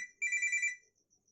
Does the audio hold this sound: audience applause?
no